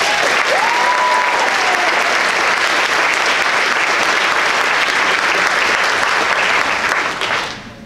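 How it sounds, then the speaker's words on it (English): A high school symphonic band concert audience applauds loudly and steadily for several seconds, a brief whistle near the start, before the clapping fades out at the end. "So I'd like to give them another round of applause."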